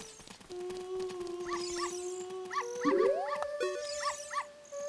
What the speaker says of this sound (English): I really, really like this low poly doggy